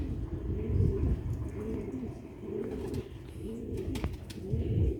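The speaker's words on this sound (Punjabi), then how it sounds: "ਇਹ ਨੇ ਪੁਰਾਣੀ ਨਸਲ ਦੇ ਕਬੂਤਰ ਸਿਆਲਕੋਟੀ" Old-breed Sialkoti grey pigeons coo in a steady rhythm, with low throaty calls repeating about once a second, close by over a soft background hum.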